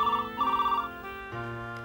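A telephone rings in a Hindi TV serial scene, a repeated electronic bell tone in two bursts followed by a lower steady tone, fairly loud and close with no talk over it.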